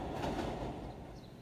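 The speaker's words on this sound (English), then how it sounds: "I've been stopping the filming each time the train goes by" A train rolls past outside, a steady broadband rumble with faint rail clatter holding level for the whole moment before easing slightly, no talk over it.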